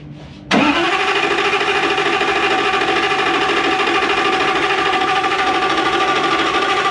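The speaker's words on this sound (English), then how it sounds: "Just give it a good crank" A drift car engine at Manfeild in New Zealand, one with oil pressure issues, cranks briefly and then fires up into a loud, steady, high-revving run that continues unbroken with no voices.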